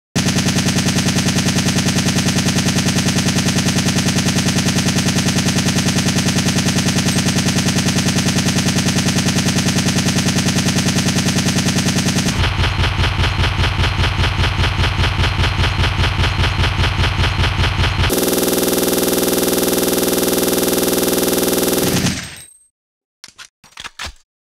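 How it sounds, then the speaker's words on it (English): An automatic assault rifle in Resident Evil 3: Nemesis fires in long sustained bursts, loud and close, with a rapid mechanical rhythm that shifts in tone across three sections before cutting off, followed by a few short isolated clicks. "Let's start in auto mode for like an automatic assault rifle."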